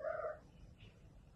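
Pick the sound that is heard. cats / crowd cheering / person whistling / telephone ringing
cats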